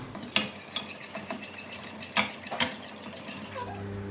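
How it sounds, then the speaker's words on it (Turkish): A metal spoon stirs sugar syrup (şerbet) for kadayıf dessert in a pot, giving repeated bright clinks and scrapes against the metal, close and clear, with no talk. "Şimdi bunu şöyle karıştıralım. Şekeri iyice yedirelim ki şekerlenmesin şerbetimiz."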